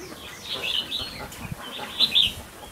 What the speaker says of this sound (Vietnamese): Không có gì ngoài chim.